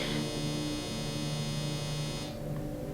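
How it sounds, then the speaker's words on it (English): Clothes dryer running in the next room, a steady low electric hum and buzz that drones evenly throughout, with a faint higher whine fading out near the end. "That's my dryer"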